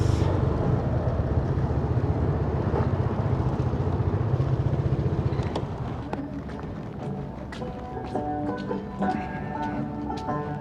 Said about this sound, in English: Peace out, Harley. American muscle bike,